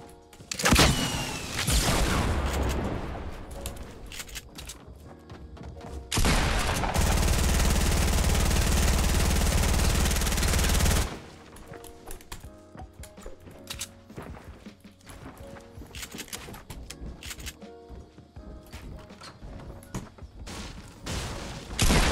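Gunfire in the battle royale game Fortnite rings out as loud, rapid bursts and booms, with a long, dense roar of sustained fire midway, then scattered shots and clatter.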